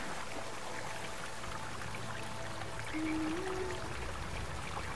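A waterfall in the video game Rime pours as a dense, continuous rushing stream filling the scene, with faint steady tonal game music underneath.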